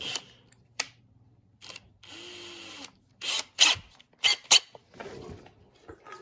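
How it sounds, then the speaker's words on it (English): A power drill with a small bit works at an old bolt on a Honda Big Red 250 trike, heard in short, separate bursts of whine mixed with squeaky ratcheting clicks and pauses. "First, we're going to start with a fairly small drill bit and work our way up from there."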